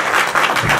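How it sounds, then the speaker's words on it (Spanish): An audience at a Rogue One press conference in Mexico claps to welcome actor Diego Luna, a brief, full burst of crowd applause heard on its own. "Pido un aplauso, por favor."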